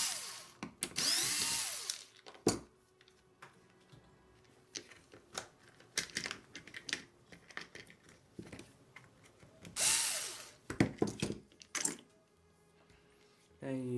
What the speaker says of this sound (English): take these two screws out